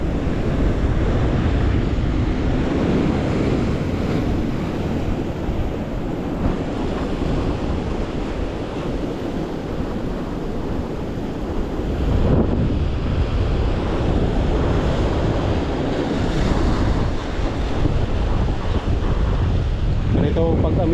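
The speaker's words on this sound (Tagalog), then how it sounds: "Grabe mga master ang alon, no?" Strong ocean waves crashing against rocks during the northeast monsoon season, a loud continuous surging roar with heavy wind buffeting the microphone throughout.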